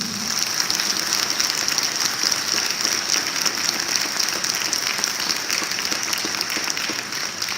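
Sustained, dense applause from an audience at an academic recognition and scholarship ceremony, loud and steady for the whole stretch with no pauses and no talking over it.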